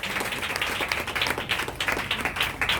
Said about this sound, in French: Acclame très fort le Saint-Esprit.